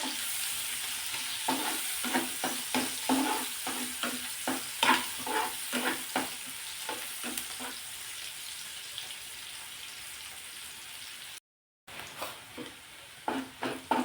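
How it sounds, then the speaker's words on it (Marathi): Finely chopped onion with cumin sautéing in a pan, a steady sizzle under repeated scraping stir strokes, close and moderately loud with a brief dropout near the end. "आणि बारीक चिरलेला कांदा टाकायचा आहे कांदा चांगला परतून घ्यायचा"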